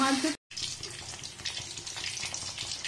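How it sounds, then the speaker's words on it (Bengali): Battered fish fries in white oil in a kadai, giving a dense, bubbling hiss after a brief silent break, close and steady throughout. "মাছগুলো উল্টে দিয়ে ভালো করে ভেজে নিতে হবে দুপিস"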